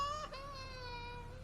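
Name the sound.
baby crying strangely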